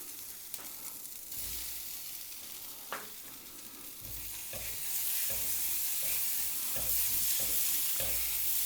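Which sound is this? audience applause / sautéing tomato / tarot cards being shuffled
sautéing tomato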